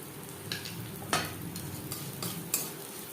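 Dried lentil bori frying in a pan of oil with green chillies, a faint steady sizzle punctuated by several sharp spoon taps and scrapes at irregular intervals.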